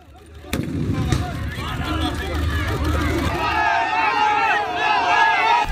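A large crowd of Arab demonstrators clashes with Israeli police firing tear gas and stun grenades. A sharp bang early on gives way to a sustained roar of shouting and babbling voices that grows louder and more agitated.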